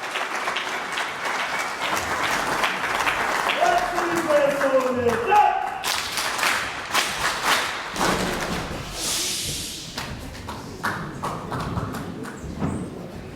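Applause from an audience welcoming an ambassador to the podium at a formal ceremony, a steady broad patter of clapping lasting several seconds before thinning out, with some voices mixed in.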